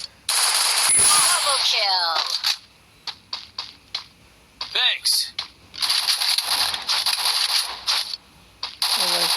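Automatic weapons fire in a shooting video game arrives in sharp bursts of rapid shots. Longer volleys alternate with short taps and gaps, and casual voices chatter between the bursts.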